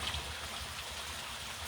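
Water rushes steadily out of a rooftop water tank being drained during cleaning, forming a continuous broadband stream and splash wash that stays even and fairly close throughout, with no voices over it.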